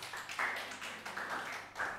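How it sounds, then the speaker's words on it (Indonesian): Scattered light clapping from a church congregation during a worship service, soft and somewhat distant, a few uneven bursts of hand claps without voices. "Tepuk tangan dulu dong Jordan."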